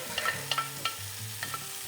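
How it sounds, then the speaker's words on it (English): Butternut squash being sautéed in a pan for coconut curry soup: a soft, steady sizzle with a few short scraping stirs, close and fairly quiet, with no voices. "So now we're putting in the butternut squash."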